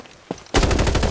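Automatic assault rifle bursts in the Farlight 84 shooter game: a single faint shot, then a loud rapid string of rounds fired in quick even rhythm, close and dominant, with no talking.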